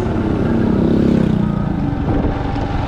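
Motorcycle ridden at midday through street traffic on Jalan Siatas Barita in Pematang Siantar, a continuous loud engine drone and road rumble with slight revving, close and without talk.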